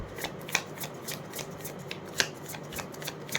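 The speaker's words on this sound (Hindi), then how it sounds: "एक सेकेंड में शफल कर रहा हूँ।" Tarot cards shuffled by hand in quick, repeated riffling bursts with a few sharper snaps, close and clear, no talking.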